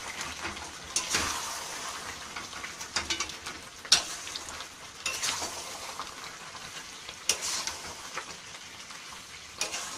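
Mango pickle with jaggery and spices being stirred in a pan, giving a steady, close sizzle-like crackle and scrape that keeps on without a break, with a few sharper knocks of the spoon and no voices.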